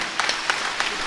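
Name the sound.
audience applause at a Ganapati Sachchidananda discourse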